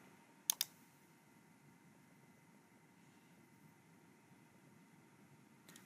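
A computer mouse gives a quick double click, sharp and close, in a quiet room with a faint steady hiss. Another faint click comes right at the end.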